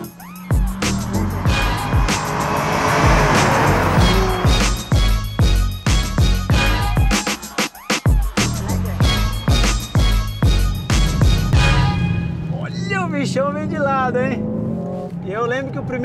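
A Mercedes A45 AMG and a V8 Camaro accelerate hard on a race track, with loud, sustained engine roar and gear-change dips heard from inside the car, under frequent talk, and the engine easing off near the end.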